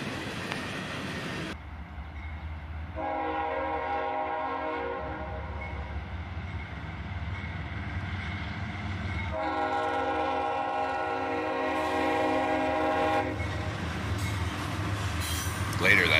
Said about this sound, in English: with our first train we caught in April, we have one of the new SD70AH Tier 4 locomotives trailing